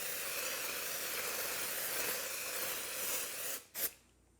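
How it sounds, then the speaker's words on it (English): Continuous hissing mist from a Flower Beauty makeup setting spray swept back and forth across a face, close and steady, ending in a couple of short bursts before cutting to quiet. "the best way to use it is to just do a continuous spray back and forth across your face"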